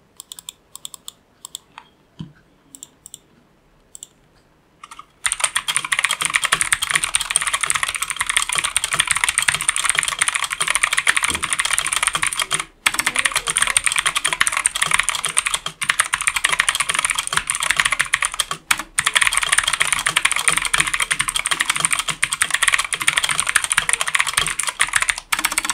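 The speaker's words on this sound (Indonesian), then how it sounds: "Sekarang gue akan kasih kalian typing test dari Armageddon MKA7C yang menggunakan Blue Switch." Rapid, steady typing on an Armageddon MKA7C mechanical gaming keyboard with blue switches, loud and close, with dense clicky keystrokes that run almost nonstop after a few quiet seconds at the start.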